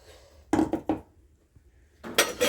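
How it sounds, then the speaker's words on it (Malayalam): A spoon scrapes and clinks against a pot while mushroom curry is stirred, a few short bursts separated by a quiet pause, close and fairly loud. "ഒന്ന് ഇളക്കി കൊടുക്കാം"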